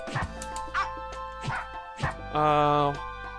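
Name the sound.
dogs barking, from video game Them's Fighting Herds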